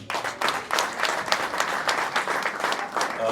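Guests at an evening party applaud together, brisk dense clapping that runs steadily throughout, with voices faintly underneath.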